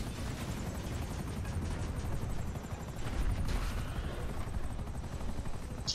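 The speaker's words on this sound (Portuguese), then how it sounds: "Esse helicóptero aqui, gente." A helicopter in the video game GTA V whirs steadily with a constant rotor drone, close and unbroken throughout.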